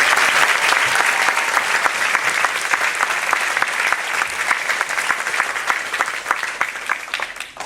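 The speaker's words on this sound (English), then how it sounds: "let's give Mrs. Beguiza a big round of applause" An audience at a primary school production of The Jungle Book claps steadily for several seconds, a dense sustained round of applause from a hall full of people that thins slightly near the end.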